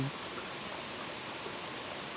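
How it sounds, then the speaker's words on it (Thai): Loud, steady rush of flowing water, likely a waterfall or fast stream, fills the whole stretch as a constant broadband roar with no other sounds. "ก็เสียงน้ำไหลดังมากเลยนะ"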